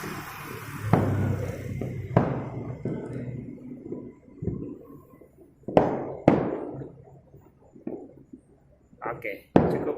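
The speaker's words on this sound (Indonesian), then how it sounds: "Kayaknya lebih dari 5 menit nanti masih ada bunyi-bunyi kembang api ini." Scattered New Year's Eve fireworks over Bandung, sharp isolated bangs and cracks at irregular intervals, some near and loud, others fainter, with quieter gaps between bursts.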